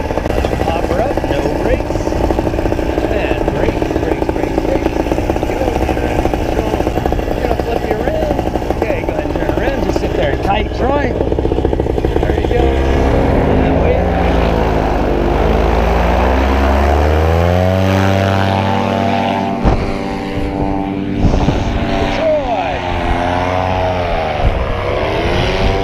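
A tandem paramotor engine is throttled up for a launch, a loud, close, continuous propeller drone whose pitch rises and wavers, with voices faintly under it.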